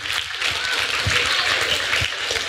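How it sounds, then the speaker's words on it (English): Audience applause for rookie teams at a FIRST LEGO League robotics scrimmage, a dense, steady wash of many hands clapping at close range for the whole stretch, with faint crowd voices mixed underneath. "let's have a round of applause for rookies."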